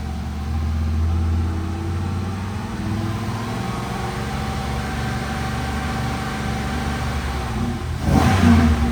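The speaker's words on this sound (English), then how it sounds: "Let's give it some throttle." A car engine, checked for a misfire and catalyst efficiency, hums at a steady idle and then rises sharply as the throttle is opened near the end, close and loud with no talk.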